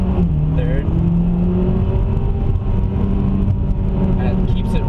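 A 2014 Mitsubishi Ralliart in sport mode holds its engine at high RPM, a steady droning rumble with a rising tone heard from inside the car, a voice faintly underneath.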